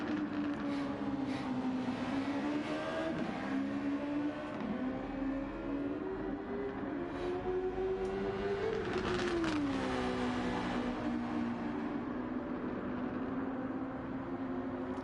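A race car in Gran Turismo 7 runs its out lap warming the tyres during Super Championship free practice, a steady engine tone rising and falling through gear changes with a swell near the middle, continuous and close with no talk.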